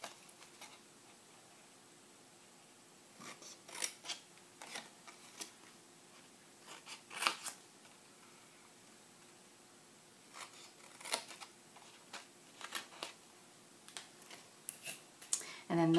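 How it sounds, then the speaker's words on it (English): Scissors trim small paper tabs on a scored cardboard box template for an egg package, giving a few soft intermittent snips and crisp crunches in quiet surroundings. "And I trim these slightly."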